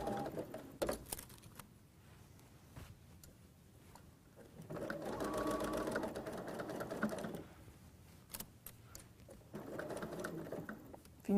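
Sewing machine stitching a curved seam, running in several bursts of steady mechanical whirring separated by quieter pauses with faint clicks and handling noises, recorded close but at modest volume.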